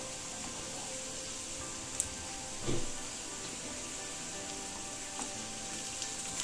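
Onions with torn tamarind sautéing in a pan for an onion chutney, a steady soft sizzle and hiss running throughout, with a brief spoon scrape near the middle.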